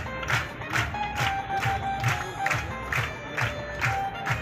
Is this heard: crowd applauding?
yes